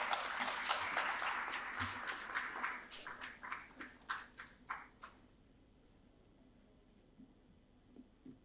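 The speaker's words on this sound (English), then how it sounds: "please welcome him with a huge round of applause" Applause from an audience in Stein Auditorium starts fairly full, then thins to scattered individual claps and dies away into near quiet with a few stray taps.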